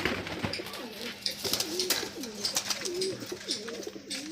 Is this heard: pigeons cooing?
yes